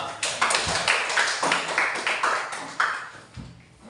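A classroom of students claps for a group that has just presented its discussion of zakat, a dense, steady patter of many hands, loud and close, holding for a few seconds before thinning out at the end.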